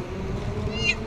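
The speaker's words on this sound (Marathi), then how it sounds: "मांजर" A cat gives a single short meow near the end, heard over the murmur of a Mumbai street outdoors.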